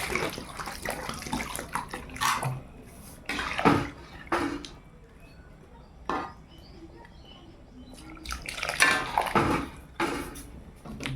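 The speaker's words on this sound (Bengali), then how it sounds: "আর একটু জল দেব।" Water is poured into a pot of cooking chicken curry in a village kitchen, splashing and running in uneven bursts close by, easing to a quieter patch midway before pouring harder again.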